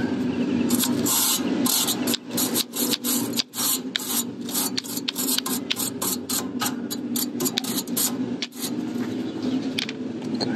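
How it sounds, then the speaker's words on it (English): Brush scrubbing a part of a semi-hermetic compressor that kept self-destructing: a close, continuous scratchy bristle rasp in quick uneven strokes, fairly loud and unbroken, with no talking. "Do a quick little brushing."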